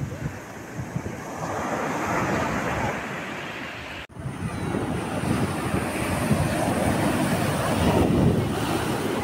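Surf washing onto a beach at Porbandar during a fair, a steady broad roar of waves with wind buffeting the microphone, one brief dropout midway, then continuing loud and unbroken.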